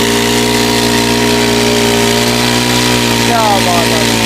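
A small water pump engine idles steadily close by, a loud constant droning hum with a brief rising whine near the end.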